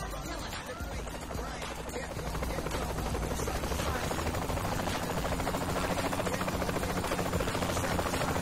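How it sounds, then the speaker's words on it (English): Helicopter in the Saints Row the Third video game, a rapid steady rotor chop that grows louder after two seconds and continues throughout, with voices faintly present. "Where's that guy in the helicopter going?"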